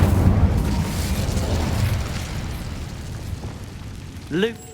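An Incendio fire spell cast in Hogwarts Legacy bursts with a loud whooshing, rumbling roar that gradually fades, followed by a brief rising magical chime near the end.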